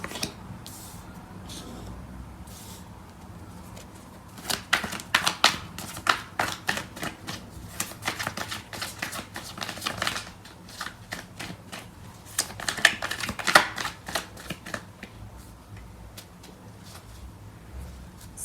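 Tarot cards being shuffled by hand in a quiet room, a run of soft, crisp riffling and slapping bursts that come in clusters, louder in the middle and again near the end, with no talking.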